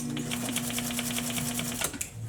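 A sewing machine stitching a back stitch on a box cushion runs as a fast, even mechanical clatter with a steady hum, then stops abruptly near the end before a brief low whir.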